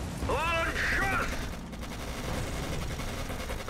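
Gunfire from the World War II strategy game Panzers: Phase One crackles in dense bursts, mixed with mortar fire and ongoing battle noise, while a voice talks over the opening moments.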